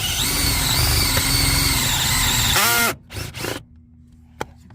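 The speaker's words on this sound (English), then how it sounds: "I'm drilling the hole. I'm using a uni bit right there" A power drill fitted with a uni step bit bores a hole during an amplifier install in a 2001-2005 Honda Civic, whining steadily and close for about three seconds before spinning down, followed by a few clicks and a sharp tap.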